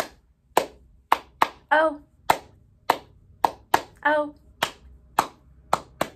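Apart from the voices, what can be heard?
hand claps during Bingo song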